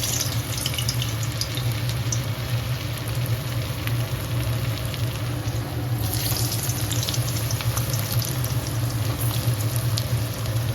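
Potatoes fry in hot mustard oil in a wok, giving a steady, even sizzle with a close hiss and a low bubbling that holds all the way through with no talk.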